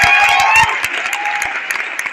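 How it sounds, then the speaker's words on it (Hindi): Audience applause at a network marketing business training seminar, loud dense clapping at first that thins after a moment into scattered individual claps. "मैं चाहूंगा अब तक की सबसे जोरदार ताली इन तीनों चीजों के लिए।"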